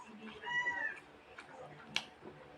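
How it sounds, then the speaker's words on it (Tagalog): A cat meows in a house while someone eats pato ginataan, the mewing harmonic and rising over a short stretch near the middle, with other voices and kitchen clatter in the background. "sinabayan na ako ng pusa."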